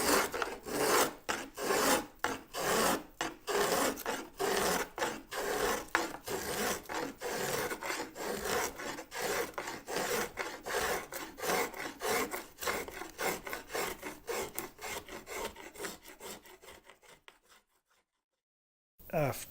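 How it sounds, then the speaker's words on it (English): Curved-sole hand plane scooping the inside of a wooden instrument body in a luthier's workshop, dense rapid rasping strokes in a steady rhythm, close and loud, fading out toward the end. "For an inside one, we want what's called a curved sole, because of the nature of the scooping action of the planing."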